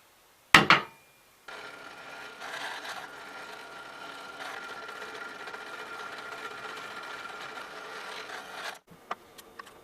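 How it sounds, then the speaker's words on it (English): A drill press bores through a piece of wood: a sharp knock comes first, then a steady grinding whir that runs for about seven seconds and stops abruptly, followed by a few faint taps. "Now that this is drilled out,"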